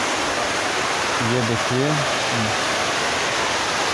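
Kapil Dhara waterfall by the Narsingh Nath temple in Bargarh rushes in a steady, unbroken roar of falling water, with a voice speaking briefly over it midway.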